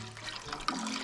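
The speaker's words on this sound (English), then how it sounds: "I'm gonna add some water" Water poured into a cooking pot at a Big Bend campsite gives a short, close gushing splash lasting about a second, with no talking.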